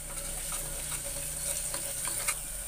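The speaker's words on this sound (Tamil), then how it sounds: "எல்லாம் சேர்த்து நல்லா மிக்ஸ் பண்ணிக்கோங்க" Prawn biryani masala sizzles in a frying pan as it is mixed, a constant hiss of hot oil with soft scraping strokes of a spoon, close and unbroken by talk.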